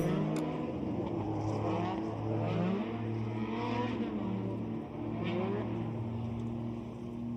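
A drift car at a Formula Drift Japan qualifying run, its engine droning and revving in sweeping pitch changes through a long slide, loud and sustained, with a faint crowd or commentary wash behind it.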